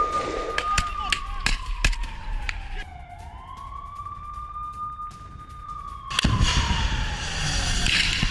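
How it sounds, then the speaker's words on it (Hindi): Sharp gunshots crack out during a Hamas-Israel street gun fight in Ashdod, scattered single bangs over a wailing, rising and falling siren, with a louder rush of noise near the end. "जबरदस्त गन फाइट की ये तस्वीरें अब आपके सामने"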